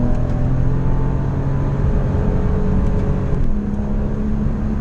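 A Porsche Boxster S with a PDK gearbox heard loud from inside the cabin, its engine note rising steadily, then a quick downshift blip near the end before it pulls on at a new pitch. Nobody talks.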